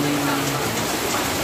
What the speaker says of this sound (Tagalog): patuloy kaming inuulan dito sa road 2